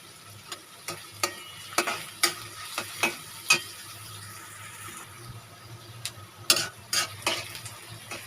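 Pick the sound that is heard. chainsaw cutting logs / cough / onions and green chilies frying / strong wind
onions and green chilies frying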